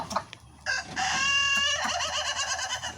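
Chickens cluck and squawk close by, with a drawn-out crowing call in the middle and busy overlapping clucks continuing to the end.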